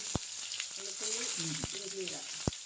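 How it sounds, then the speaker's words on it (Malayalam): Mustard seeds and garlic sizzle in hot oil with a soft, steady frying hiss. Three sharp pops from bursting seeds stand out, and a voice murmurs faintly in the background. "കടുക് ഇട്ടു കടുക് പൊട്ടട്ടെ ആക്കി"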